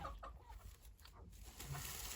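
Hens clucking in short bursts over a steady low background rumble, with no talking.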